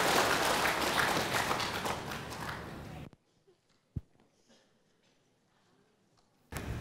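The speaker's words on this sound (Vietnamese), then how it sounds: "Xin quý vị cho một tràng vỗ tay nữa đi ạ" Applause from a gathered assembly at a Buddhist dharma talk, a loud burst of clapping that stops abruptly, followed by near-quiet with a few faint knocks and shuffles before clapping briefly returns.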